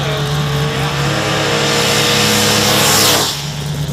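A drag racing car roars loud and close at a Christmas Tree Drag Race World Championship event, its engine pitch climbing steadily through the pass before dropping away sharply near the end.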